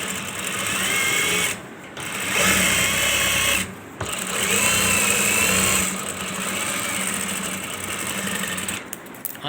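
A sewing machine stitches a men's shalwar in close, loud whirring bursts of a few seconds each, with short pauses between runs and no talking.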